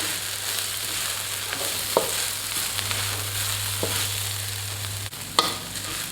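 Garlic, chili and coriander root stir-frying in a pan, a steady close sizzle with a low hum underneath and a few sharp scrapes of the spatula against the metal, no voices.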